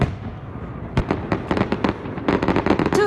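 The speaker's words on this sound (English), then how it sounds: "Fireworks lit up the southern sky on Friday to add colour to the celebrations." Fireworks over a celebration in the southern sky crackle and pop in quick, irregular bursts, loud and close, after a brief quieter lead-in.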